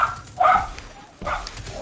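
A dog barks in the middle of a Destiny 2 Crucible multiplayer match, two short yelping bursts heard close and fairly loud over the game's background noise.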